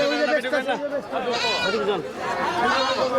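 Totapuri goats at a livestock market bleat repeatedly in loud, wavering, overlapping cries up close, with people chattering in the background.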